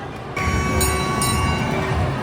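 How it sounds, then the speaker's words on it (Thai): An amusement ride train rumbles in close and loud after a brief quiet start, with a steady tonal whine and clanking over a low rolling drone. "รถไฟกำลังมาแล้วครับ"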